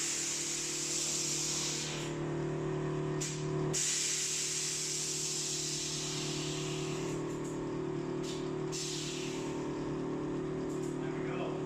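Air ride suspension on a parked vehicle venting air as it lowers, a long, loud, steady hiss broken by a few brief gaps.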